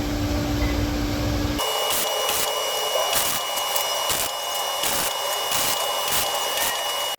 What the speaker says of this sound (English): All right, let's get to welding this thing up.